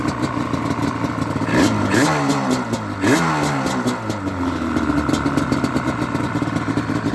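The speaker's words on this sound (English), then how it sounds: "Them old FMF pipes sound good." A Yamaha Banshee ATV with FMF exhaust pipes and synced carbs idles loud and close, its two-stroke engine burbling with a couple of quick blips of the throttle that rise and fall.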